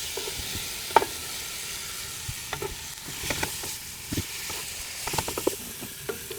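Fried fish pieces going into a thick spice paste in a pan for fish biryani, with soft stirring scrapes and gentle sizzling, several sharper clinks and taps scattered throughout, no talking.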